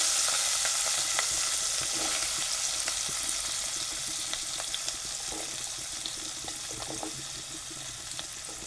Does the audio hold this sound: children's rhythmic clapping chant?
no